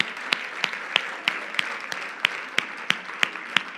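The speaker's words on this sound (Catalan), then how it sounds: "que els fem un fort aplaudiment" An audience at the closing of a DMR congress claps in unison, a steady rhythmic beat of about three claps per second over a soft bed of scattered clapping.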